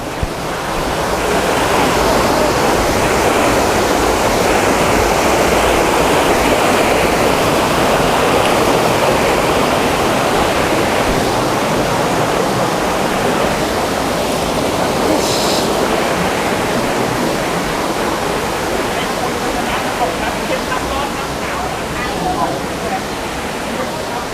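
Steady, loud rush of water at Phlio waterfall in Thailand, cascading into a series of rock pools, a continuous broadband roar filling the whole stretch without pause.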